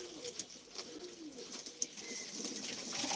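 Turkish yanar döner pigeons, young sibling birds kept in a loft, coo softly and steadily, with a few faint chirps over quiet background noise.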